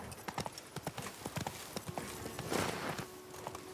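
Hooves of Roach, a horse in The Witcher 3 video game, clatter in a quick galloping rhythm, loud and close, with a brief whinny partway through.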